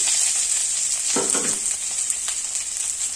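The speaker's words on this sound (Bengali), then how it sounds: "একটি বড় সাইজের পেঁয়াজ দিয়ে দিচ্ছি" Thick-cut pieces of a large onion fry in hot oil with a steady, dense sizzle, with a brief louder hiss and crackle about a second in and light stirring after, no voices.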